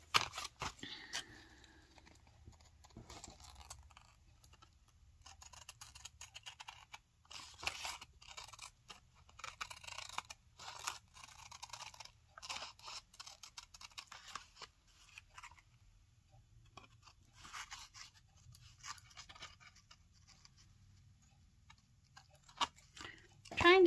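Scissors snip through the torn edge of a cardstock journal page, a run of short crisp cuts and paper rustles at close range, fairly quiet, with brief pauses between snips and no talking.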